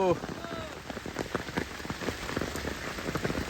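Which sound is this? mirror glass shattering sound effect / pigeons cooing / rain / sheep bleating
rain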